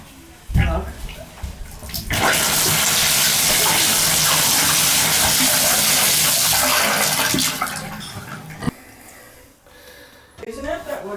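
Water gushing loudly into a tub shower as its drain backs up, a steady rushing roar lasting several seconds before it cuts off, with voices talking briefly before and after.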